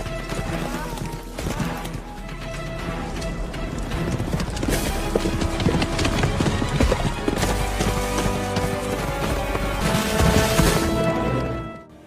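Horses galloping hard in a race, a dense drumming of hooves with crashes and swelling music, loud throughout.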